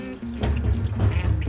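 Water poured from a tap into a pot of meat and onions, a brief close splashing rush that swells after a short start and runs steadily.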